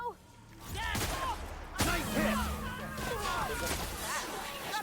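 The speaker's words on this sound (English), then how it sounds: "Hey, this shotgun rules." Shotgun blasts from The Outer Worlds ring out amid game combat, a couple of sharp booms under overlapping voices and chatter that run through most of the moment.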